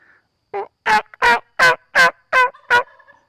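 A wild turkey gobbles in a quick run of about seven loud, rattling bursts, clear and close against otherwise quiet surroundings, without going into strut.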